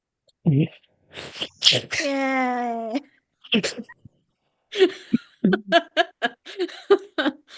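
A sneeze bursts out among people talking and laughing around a tabletop role-playing game session; one sharp, loud burst stands out from the chatter, followed by more voices and brief laughs.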